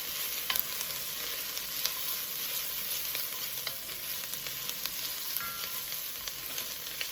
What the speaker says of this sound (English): So I can see a little bit of browning on the onions.